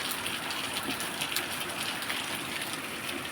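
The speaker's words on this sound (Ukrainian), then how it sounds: "Лівень от такий от." Heavy rain pours down outside a window, a steady dense hiss of water drumming on surfaces with no letup, loud and close throughout.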